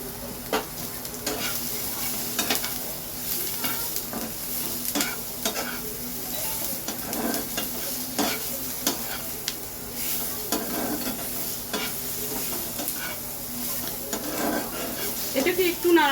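Cashews with mace, cinnamon and cardamom being stirred in a pan for egg korma, a continuous sizzle under repeated scraping and clinking strokes of a spoon against the pan, close and steady.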